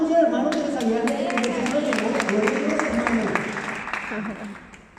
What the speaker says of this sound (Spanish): Y dale un fuerte aplauso al hermano